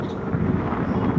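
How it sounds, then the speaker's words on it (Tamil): Strong wind gusting over a rocky hillside during the windy Aadi month, a loud, continuous low rumble of wind buffeting the microphone with no speech. "நாங்கள் இப்போ ஆடி மாதம்னால காற்று பயங்கரமாக"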